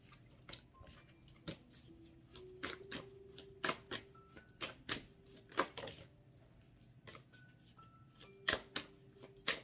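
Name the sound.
tarot cards being shuffled for a card reading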